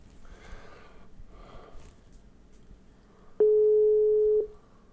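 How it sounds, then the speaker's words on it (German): A single long electronic telephone busy tone plays for about a second, following soft breathing and sniffing sounds in a quiet room. "Ich werde mal versuchen, den Rudi anzurufen."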